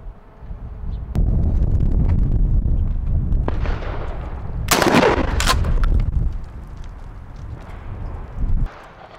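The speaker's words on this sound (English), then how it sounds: "we just shot 20 yards with the KSG 1 ounce slug" Kel-Tec KSG shotgun firing a 1 ounce slug outdoors at 20 yards, a loud blast with sharp report around the middle, over steady wind rumble and field noise.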